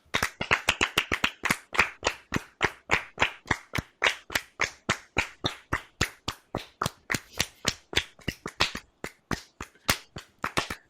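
Hands clap alone in a steady, brisk rhythm, about forty sharp, close claps over roughly eleven seconds.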